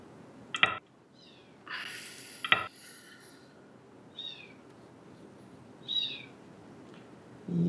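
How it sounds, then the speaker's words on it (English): A six-week-old kitten gives several short, high meows spaced across a few seconds, fairly faint against a quiet room background with no talk. "It's actually a kitten. It's only 6 weeks old, 7 weeks old."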